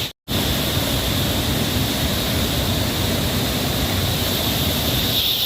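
A loud, steady roar of a forest waterfall fills the whole stretch, broadband and unbroken after a brief silent gap at the very start, with no voices.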